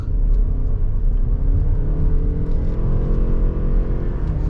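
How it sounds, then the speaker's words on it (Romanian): A Lexus RX engine with a CVT transmission revs steadily and loudly from close by, a continuous low droning rumble with a whirring edge that holds roughly even throughout, with no talking over it. "Se aude CVT-ul, se aude motorul cum se turează."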